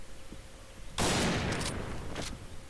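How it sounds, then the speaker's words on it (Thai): A single loud sniper rifle shot in the shooter game PointBlank, a sharp close blast with a short ringing tail and a faint second report after, over a steady low background hum. "ยิงสไนหน่อย"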